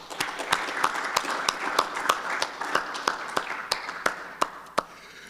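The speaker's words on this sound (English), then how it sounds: "Round of applause, please." A small group claps steadily for a few seconds, with sharp individual claps standing out against a lively background.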